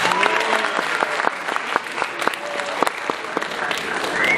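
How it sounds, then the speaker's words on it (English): Audience at a youth leaders' event giving a sustained round of applause, a dense, even wash of many hands clapping with sharp individual claps popping out throughout. "Let's give her a thunderous round of applause."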